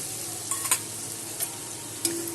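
Spice paste mixed with water, turmeric among the spices, sizzles in a hot pan as it is stirred during the cooking of a Bengali brinjal dish, a faint steady hiss broken by a few soft scrapes and clinks.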